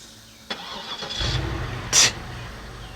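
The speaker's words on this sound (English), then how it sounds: "before we get out of here, remote start" A 2009 Cadillac DTS started by remote start: a faint click, then the engine cranks and catches with a brief loud flare, then settles into a steady, close idle.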